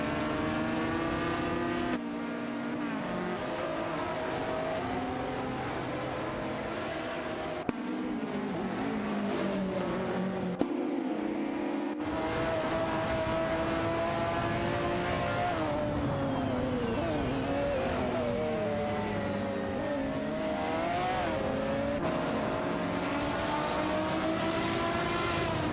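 Video game race cars, including a Toyota Supra GTC and a McLaren F1 GTR, drone along with layered, shifting engine tones that rise and fall through gear changes, steady and loud throughout with no talk.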